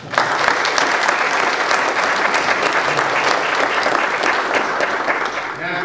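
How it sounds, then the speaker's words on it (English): Dense, loud round of applause from a crowd at a health care debate in Charleston, sustained and even throughout. "Let's give him a nice round of applause."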